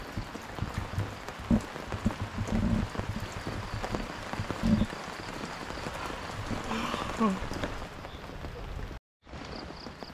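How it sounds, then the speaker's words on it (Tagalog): Rain patters steadily on surfaces at a wild campsite in Amadeo, Cavite, with scattered heavier drops in a soft continuous hiss. A few faint thuds are mixed in, and it cuts off briefly near the end. "Ulan."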